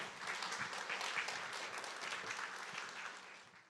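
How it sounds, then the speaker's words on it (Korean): A church congregation applauds to welcome a pastor to the front, a soft, even wash of clapping from a crowd heard at a distance throughout. "여러분께서 박수로 맞이해 주시기 바랍니다"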